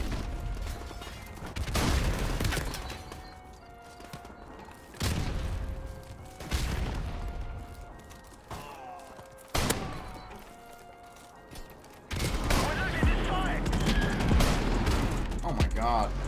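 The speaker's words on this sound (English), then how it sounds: "Look at this, there's so many grenades everywhere. I'm spawning into grenades." Grenade explosions and gunfire in a video game, a series of sharp booming blasts every couple of seconds followed by a sustained loud burst of shooting, with a voice talking over the action.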